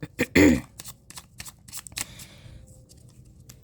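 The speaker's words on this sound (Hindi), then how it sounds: "Last shuffle." Tarot cards are shuffled by hand in quick papery riffles and bursts of card slaps, close and fairly loud at first, then a few softer flicks trailing into quiet.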